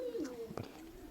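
A soft pigeon coo rolls out once, low and nearby, with faint background noise and a brief knock partway through.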